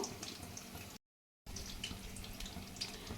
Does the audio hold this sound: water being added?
yes